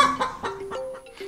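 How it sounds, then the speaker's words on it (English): Chickens on an integrated farm cackle and cluck in quick, close bursts, several short calls in succession with a thin high tone running underneath. "the cackling sound of chickens"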